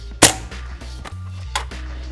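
A sharp, loud impact strike on the shell of a Biltwell Gringo retro helmet during a crash test, followed by a second, softer knock about a second later over a low steady hum.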